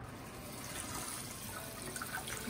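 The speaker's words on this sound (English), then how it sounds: "why don't you come on over here to the sink and go wash your hands" Water running from a kitchen sink tap as hands are washed, a steady faint splashing trickle, close and continuous with no talk.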